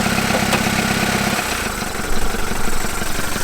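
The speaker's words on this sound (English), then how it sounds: "Hey, look at that, we've got an idle. That is idling." The engine of an old Toyota Land Cruiser BJ42 idles close by, its low, rumbling drone continuous throughout with a slight shift in tone partway through.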